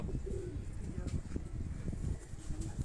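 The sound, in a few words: pigeon cooing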